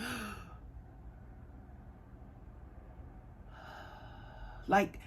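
A voice imitates slow, deep breathing, with a long airy exhale at the start, a quiet pause, then another drawn-out breath that ends in a short, sharp catch, close and soft.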